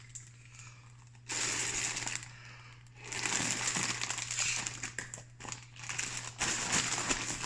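Bursts of crinkly plastic rustling as an inflatable camp pillow is unfolded, several separate crackling stretches with short quiet gaps between them, close and fairly soft.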